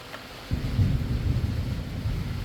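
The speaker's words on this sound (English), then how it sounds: "I was just pausing to let that thunder roll by there" Thunder rolls in abruptly and rumbles low and steady for about two seconds, moderately distant, with no talk over it.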